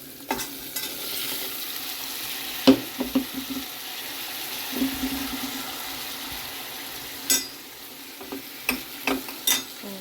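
Garlic paste and other ingredients fry with a soft, steady sizzle in a pan, broken by sharp scraping clicks of a spoon stirring against the metal at irregular moments.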